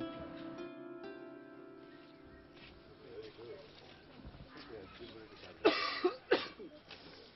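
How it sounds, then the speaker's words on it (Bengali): A feverish man coughs in a Bangla TV drama, several harsh, close coughs bunched near the end after a stretch of tonal background sound and murmured speech. "বন্ধু দেখে অনেক কাশছো, ব্যাপার কি?"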